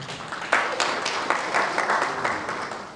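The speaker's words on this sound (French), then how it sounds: "Monsieur Amar Ndoye, applaudissez la classe s'il vous plaît, applaudissez la classe." Applause from an audience at an accountants' club scientific committee event, brisk clapping with a few sharp louder claps standing out, moderately close and without talk.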